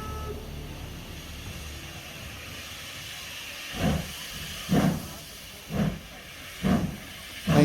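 Heavy steam locomotives, class 52 engines hauling a 2,200-tonne train, release a steady background hiss while four loud, evenly spaced chuffing bursts begin partway through as the train pulls away from the station.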